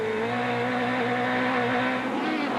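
Off-road race truck engines under throttle at a LOORS Pro Light race, a steady loud roar with sustained harmonic drone and slight pitch shifts, close and continuous throughout.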